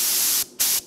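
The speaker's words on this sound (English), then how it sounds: "we're running about 30 pounds of air. We're spraying water, so it doesn't take a whole lot to atomize that." Harbor Freight paint spray gun at about 30 psi atomizing water, giving two loud bursts of hissing spray separated by a short pause, close and alone with no talk.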